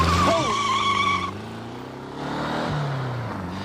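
A car performing stunts skids with loud squealing tires, a sharp high whine over engine roar at first, then shifting into lower rumbling engine tones as it slides and recovers, close and dominant without speech.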